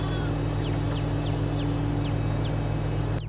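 Chickens cluck in Farming Simulator 22, a run of about eight short rising calls in a loose rhythm over a steady low machine hum, fairly close and clear.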